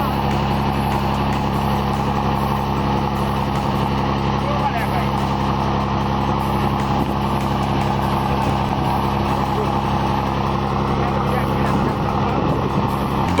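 A heavy logging truck's engine labours on a rocky climb, a loud continuous low rumble and drone that holds steady throughout, with a narrating voice over it.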